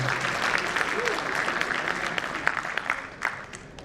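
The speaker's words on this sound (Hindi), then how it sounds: "आप मेरा हौसला बढ़ाने के लिए एक बार जोरदार तालियां बजा दीजिए।" Audience applause rising for a poetry performer at a research scholars' day event, a steady wash of many clapping hands with a few sharper claps near the end, with faint voices underneath.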